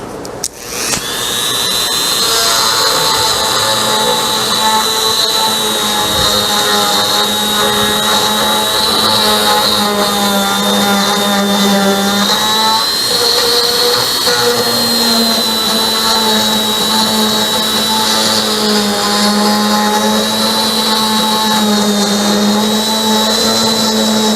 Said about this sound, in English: So I'm going over it with a Dremel tool and cleaning out all these little channels